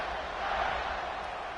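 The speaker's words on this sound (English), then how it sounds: "this crowd is buzzing after that last score" A stadium crowd in a college football video game keeps up a constant, distant roar and murmur at moderate loudness, with a faint voice mixed in.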